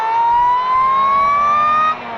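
A supercharged Ariel Atom pulls hard in third gear from about 50, its engine note rising steadily in pitch as revs climb, loud and close, then easing off abruptly near the end.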